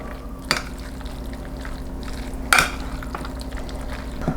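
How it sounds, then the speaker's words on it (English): Chopped onion being stirred into noodles in a pot, with a few distinct clinks and scrapes of the utensil against the cookware over a quiet kitchen background. "Gonna add that to the noodles. We will stir that in."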